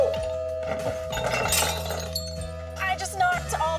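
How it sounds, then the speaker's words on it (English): Glasses knocked over at a dinner party clink and shatter in a brief burst of breaking glass, with people talking and music-like tones running underneath. "I just knocked all the glasses down."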